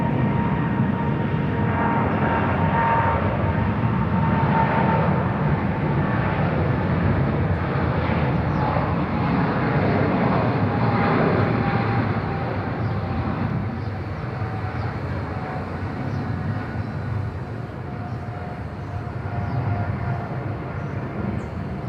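A KLM airliner takes off from Bangkok Suvarnabhumi Airport bound for Amsterdam, its jet engines producing a loud, sustained rumbling roar that slowly eases as it departs.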